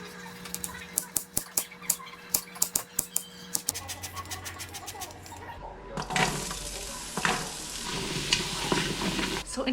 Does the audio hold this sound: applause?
no